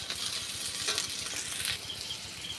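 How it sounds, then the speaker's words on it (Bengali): Soybean chunks fry in a nonstick pan with a constant bright sizzle, small spitting crackles and occasional stirring movement throughout, no talking. "ননস্টিক কড়াই বলে তাড়াতাড়ি সয়াবিনটা লাল হয়ে যাচ্ছে।"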